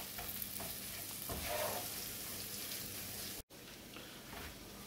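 A pan of capers, anchovies and garlic frying in oil gets tomatoes added, giving a steady close sizzle with stirring scrapes and one brief dropout partway through.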